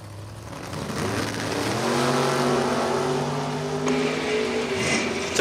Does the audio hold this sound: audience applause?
no